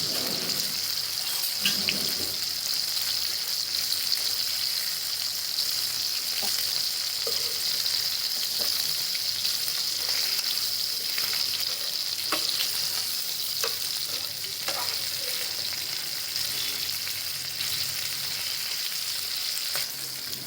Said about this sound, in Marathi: पाच मिनटं एका साईडने परतून घेते